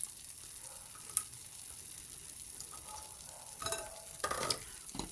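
Tamarind pickle with vinegar and ground spices is stirred in a frying pan, with scattered scraping strokes and soft shuffles against a quiet hiss, growing busier toward the end.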